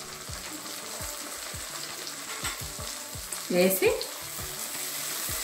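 A paste of dried red chillies and cumin sizzles in hot oil for a chicken curry, a steady bubbling hiss with a brief wet stir and splash midway and a single spoken word.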